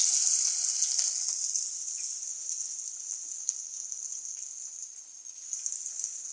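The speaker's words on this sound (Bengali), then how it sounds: "গরম তেলে পাকোড়া ভাজা হচ্ছে" Lentil pakoras frying in hot oil, an even bright sizzle with scattered faint crackles, close and steady for several seconds, easing slightly before picking up again near the end, with no voices.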